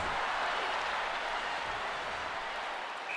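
In the NHL 2002 video game, a home hockey crowd cheers as a dense, steady wash of applause and crowd noise that holds at an even level throughout.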